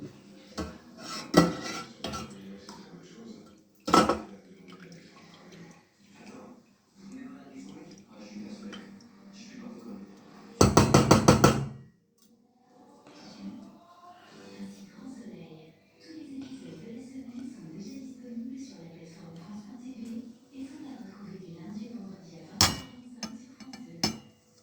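A metal skimmer and utensils clinking against a pan while lifting poached pollock in lemon sauce, sharp scattered clanks with a rapid rattling burst midway, under ongoing speech.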